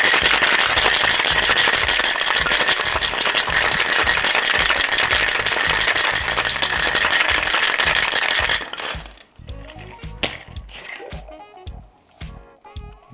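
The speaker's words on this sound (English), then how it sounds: "we are going to shake the cocktail for 10 to 12 seconds" A bourbon cocktail shaken hard with ice in a cocktail shaker, a loud, steady rattling that runs for about eight seconds before stopping abruptly, followed by quieter clinks and handling sounds.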